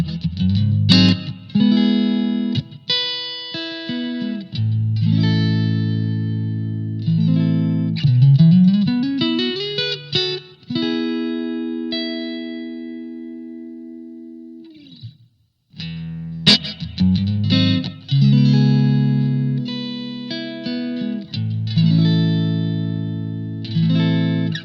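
Electric guitar played through a Blackstar ID:Core 40 V4 amp on clean settings: ringing chords and single-note runs with sliding phrases, a sustained held note that fades to a short pause, then strummed chords resume, loud and close.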